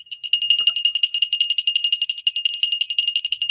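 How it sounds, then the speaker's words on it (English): A bell rings steadily in rapid, even strokes, loud and close, like an electric alarm bell sounding nonstop for several seconds. "We got to ring the bell."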